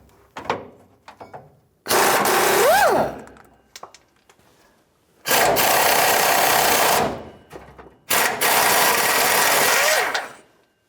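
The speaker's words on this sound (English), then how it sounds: "21mm socket on the gun." A pneumatic impact gun with a 21mm socket works on the front leaf spring shackle bolt of a 1992-1996 Ford F-150, firing in three long, loud rattling bursts, with short tool clanks in the pauses between.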